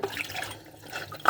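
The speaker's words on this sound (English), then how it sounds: "I just rinse it off." A dish is rinsed under a running kitchen tap, giving a short, close splash of flowing water with a brief louder gush at the end.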